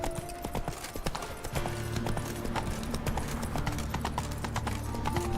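Rapid hoofbeat clip-clop of a galloping horse in The Witcher 3, steady and close throughout, with a brief whinny-like tone and game ambience underneath.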